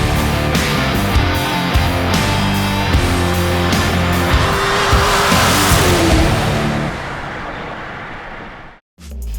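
A Tesla Model S Track Plaid drives hard on the Nelson Ledges Road Course with a loud, close whine and the roar of its tires. The noise holds steady, then fades away near the end.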